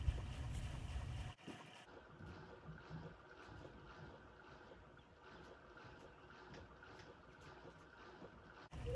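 A boat paddled across water toward a castle in the video game Go Vacation, with soft, continuous water and wind-like rushing, a brief louder burst at the start, then a quieter steady wash.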